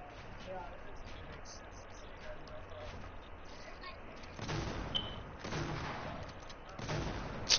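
Video game gunfire during a competitive match: bursts of shots with a louder cluster of blasts near the end, heard over a person talking continuously.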